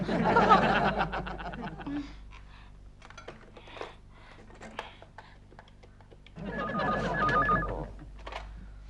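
Telephone ringing in a Hindi family sitcom scene: two warbling rings at the start and end, with faint scattered clicks and rustles in the quieter gap between.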